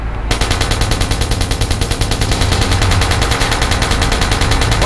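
Rapid, sustained automatic gunfire from the Watch Dogs video game, loud and close, with evenly spaced shots continuing for several seconds after a brief quiet start.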